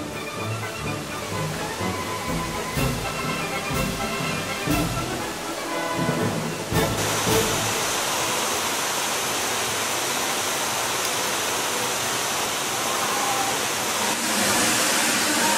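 Steady broad wash of beach waves, a continuous roaring surf that swells louder halfway through, with faint background sounds over it.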